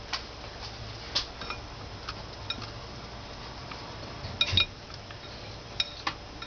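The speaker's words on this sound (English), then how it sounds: "I'm just going to stir here." Soap-making oils being stirred in a pot, a spoon or utensil ticking and clinking against the metal sides in irregular light taps over a quiet background, no talking.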